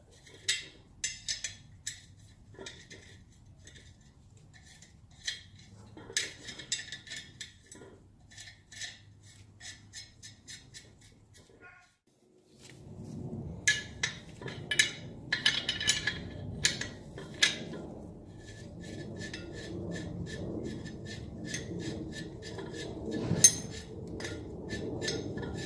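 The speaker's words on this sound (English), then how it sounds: "go ahead and get 2 nuts like this and you're going to thread them onto the stud" Two nuts threaded by hand onto a car wheel stud give repeated light metallic clinks and rattles. A broader, busier background noise joins in halfway through.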